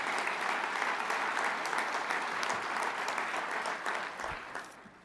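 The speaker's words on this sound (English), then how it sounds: "This applause is for you" Sustained, dense applause from an audience honoring Arizona firefighters at a Phoenix council event, loud and continuous before tapering off near the end.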